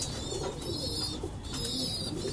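Pigeons at a pigeon seller's, a pair among cream-eyed and red-eyed birds, coo in low repeated murmurs close by, with faint chirps and background noise throughout and no one talking.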